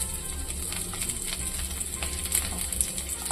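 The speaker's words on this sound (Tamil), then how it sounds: "அதே கடாயில் எண்ணெய் ஊற்றி சீரகம் போட்டுக்கலாம். சீரகம் போட்டு வச்சு பூண்டு போட்டுக்கலாம்." Cumin seeds and garlic fry in hot oil in a kadai, producing a steady close crackling sizzle with light scattered pops throughout.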